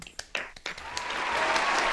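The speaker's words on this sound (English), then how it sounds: "Let's get us some applause." Applause from a studio audience on a podcast show, starting as a few scattered claps and swelling into steady, full clapping that holds to the end.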